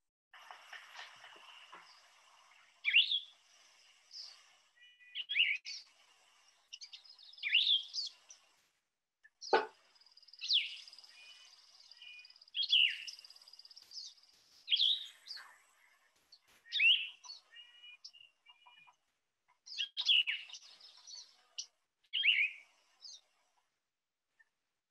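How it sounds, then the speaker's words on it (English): A songbird sings short robin-like phrases outdoors, each clear chirpy burst separated by pauses of about a second or more, repeating for the length of the clip with one sharp click in the middle. "It has robin-like phrases, but they're separated by much longer pauses."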